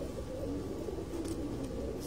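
Pigeons coo on a rooftop loft, low soft throaty calls repeating steadily against a constant background hum, fairly close but not loud.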